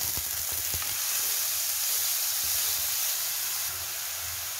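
Onion sizzles loudly and steadily in a hot pan with spluttered cumin and chopped green chilli, giving a close, continuous frying hiss with occasional low stirring knocks and no talking.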